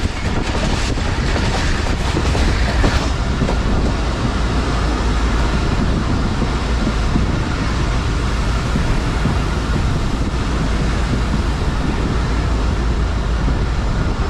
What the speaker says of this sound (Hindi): पर ट्रेन पहुंच चुकी है हमारी।